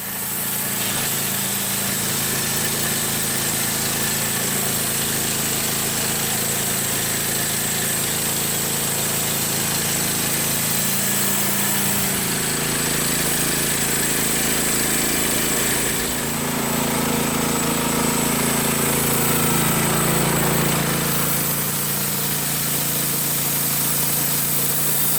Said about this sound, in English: This is the largest V8 flathead engine they made